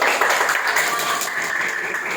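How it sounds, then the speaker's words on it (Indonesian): A short, steady burst of group clapping comes from an audience at an illustration and animation class session at a vocational high school in Ciomas, Indonesia. "Tepuk tangan dong."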